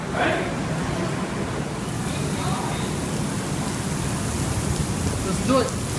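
Steady rain pours down during a severe storm in Jena, Louisiana, a dense continuous hiss with a few faint voices and movement mixed in near the end.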